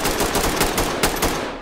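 Extremely rapid gunfire in the tactical shooter game Ready or Not, a dense continuous roar of shots with faint pulses, loud and close, running without a break and without talking.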